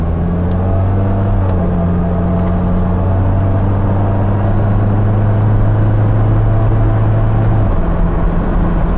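A 1994 Saab 900 Turbo Convertible pulls steadily under turbo boost, its engine drone and rising whine close and continuous with road and wind noise, no talking.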